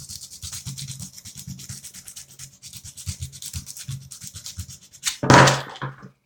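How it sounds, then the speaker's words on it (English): Rough-grit sandpaper rubs in quick repeated strokes over a lightsaber shroud emitter, close up, with a louder, harsher scraping burst near the end. "for the paint to adhere as well as possible, I'm going to use some sandpaper"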